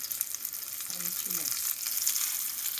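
Ragda pattice of mashed potatoes and sprouted peas sauteing lightly in oil give a steady, close hissing sizzle that runs throughout, with brief low voice-like murmurs partway through.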